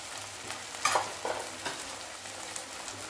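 Masala paste fries in oil in a pan, a faint soft sizzle broken by a few brief stirring scrapes.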